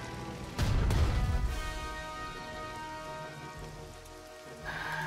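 Rain in the war strategy game Strategic Mind: Blitzkrieg, a sudden burst of heavy downpour with a rumbling crash that settles into steady hiss before a second swell at the end.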